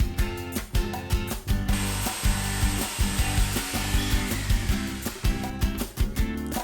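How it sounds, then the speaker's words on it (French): A jigsaw cutting wooden battens at a bevel during a duplex renovation: a loud, close buzzing saw run in short bursts with brief pauses between strokes, and no voices. "On reporte les mesures de l'ouverture sur les tasseaux qu'on découpe en biseau avec la scie sauteuse."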